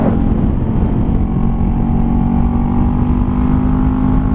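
A Honda CBR 500R motorcycle riding through corners, a loud continuous engine hum mixed with strong wind roar, steady and close from start to finish.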